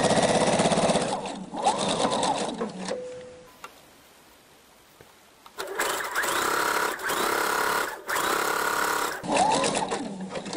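A sewing machine runs edge stitches along the bottom hem of a homemade kimono in fast, rattling bursts, with a quiet pause partway through before it starts up again.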